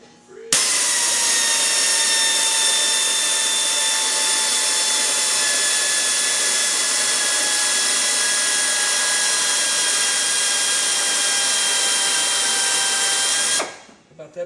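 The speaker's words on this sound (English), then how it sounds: "you drill through." A power drill boring through a solid rivet, running as one steady, loud, high-pitched whine for about thirteen seconds before it stops abruptly.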